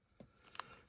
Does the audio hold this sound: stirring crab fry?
no